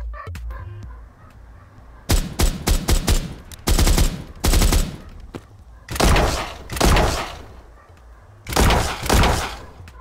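Gunfire in a multiplayer first-person shooter game: several loud, close bursts of rapid shots separated by short pauses, with no voices.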